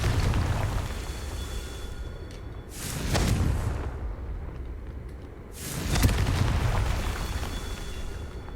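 Blasting-spell explosions in the Hogwarts Legacy video game, two heavy booming blasts a few seconds apart, each swelling and fading over a continuous rumbling backdrop.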